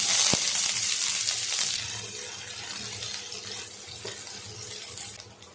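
Steady sizzling of onions frying in hot oil, a continuous crackly hiss with a few light clinks, close and fairly loud, no talking.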